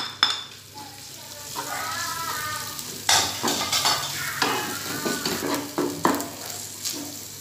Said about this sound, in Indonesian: Sekarang bumbu Bali ini akan kita goreng. Minyaknya sudah panas,